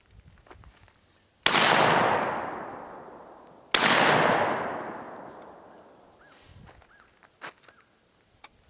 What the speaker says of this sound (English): Now both of those were firing the bottom barrel first.